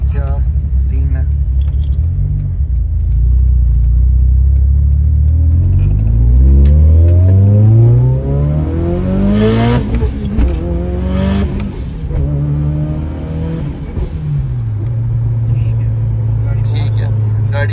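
A car with a K24 engine accelerating on a road, its engine note climbing through several rising gear pulls before easing back to a steady drone, loud and close, with someone talking over it.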